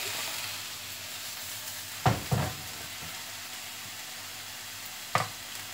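A frying pan sizzles steadily while an egg wrap cooks, with a few sharp scraping or clattering knocks from a utensil against the pan breaking through the continuous hiss.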